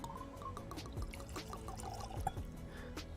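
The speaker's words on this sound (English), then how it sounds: "let's pour a little bit of whiskey" Garrison Brothers Lady Bird whiskey pouring from a bottle into a glass, a steady close liquid pour with light splashing over a busy background hum.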